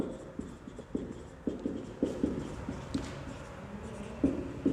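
Pen or marker strokes on a board or paper while a confidence interval formula for a population mean is written out, coming as a run of short scratchy taps and scrapes at close range, alone with no voice.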